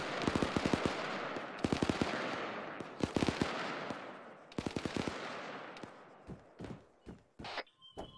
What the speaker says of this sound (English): A lot of fire going off toward fucking... north.